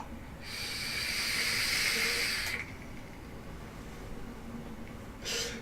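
Dense vapor from an 80 VG e-liquid exhaled from an e-cigarette, a steady breathy hiss lasting about two seconds up close, followed later by a brief second puff of air.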